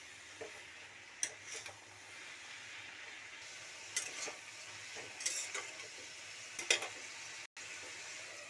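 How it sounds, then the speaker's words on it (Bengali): Salted red amaranth greens stirred in a pan: a soft background sizzle broken by intermittent spatula scrapes and clinks against the metal, fairly quiet and close, with no voices. "শাকটাতে অল্প একটু লবণ আর অল্প একটু হলুদ দিয়ে দিচ্ছি। এরপরে একটু নাড়িয়ে ঢাকা দিয়ে দেবো।"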